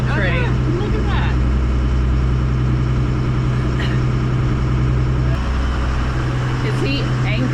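A motorboat engine drones steadily nearby while people talk over it, with the hum holding constant throughout.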